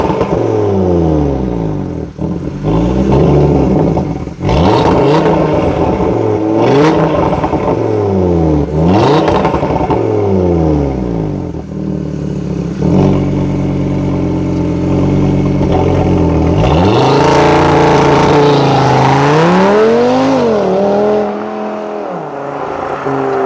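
Audi RS3 engine revving hard on a street, with repeated rising and falling throttle blips followed by a loud, sustained acceleration pass that sweeps up in pitch and then fades.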